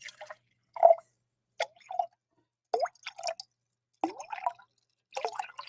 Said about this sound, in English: That's water, baby.